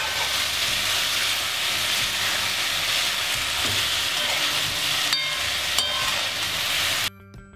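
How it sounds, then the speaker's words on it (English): Loud, continuous sizzle of food frying in a pan for ackee and saltfish before the ackee is added, close by, with a few faint clinks before it cuts off abruptly. "So we're going to leave this frying for a little while before we add the ackee."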